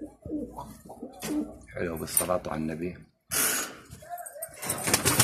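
Pigeons, including tumbler and hunting pigeons, coo close by in soft, throaty bursts while someone talks over them, with a brief pause in the middle.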